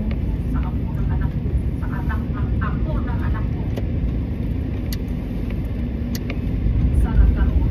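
Steady road traffic on a street, a continuous low engine rumble with passing vehicles throughout, growing slightly louder near the end, with faint voices in the background.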